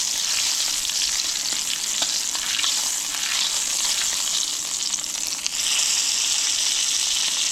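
Bison meat fries in a pan with a loud, close, continuous sizzle and crackle, briefly dipping as it is flipped and then surging back, with no talking.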